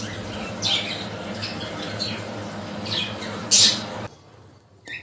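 Pet birds kept in a rooftop garden let out several sharp, close squawks and chirps over a steady low background hum, which then drops away near the end.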